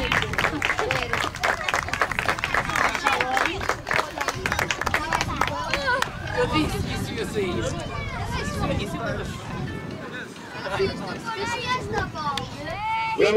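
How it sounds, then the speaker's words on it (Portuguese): A crowd applauds the winners at a youth athletics prize ceremony in Matosinhos, sustained clapping up front that gives way to crowd babble and voices talking over it. "Grande aplauso para o Rafael, o Guilherme e o Miguel"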